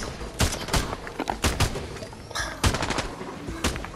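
Rapid bursts of gunfire from a single gun in a shooter video game. Loud sharp shots come in quick clusters and short volleys across the whole stretch, with no talking over them.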